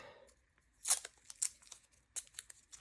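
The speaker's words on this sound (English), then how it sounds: "I'm taping the front of this block right now" Adhesive tape torn in short bursts while taping an English paper piecing quilt block: a few quick, close, crisp rips and crinkles separated by brief quiet gaps.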